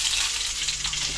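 Sliced onion frying in a hot pan, giving a steady, close hiss of sizzling with no talk.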